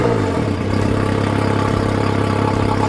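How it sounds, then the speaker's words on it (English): An outboard boat engine, started up for flushing, runs at a steady idle nearby with a continuous low throb and light mechanical clatter, and no talking. "So now the engine's running."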